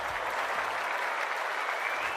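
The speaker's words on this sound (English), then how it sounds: "The crowd already making plenty of noise as the captains come together." A stadium crowd cheering and roaring before an AFL match between Gold Coast Suns and Hawthorn, a dense continuous wash of applause and noise with no breaks.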